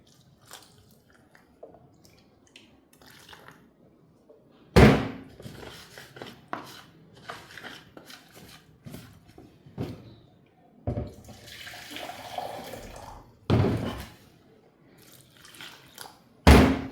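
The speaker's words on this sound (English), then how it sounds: "So let's add hot water." Hot water is poured into a blender while making moimoi, using a faulty blender. Several short, splashy pours come through in bursts, with quieter dripping and handling sounds between them, close to the listener.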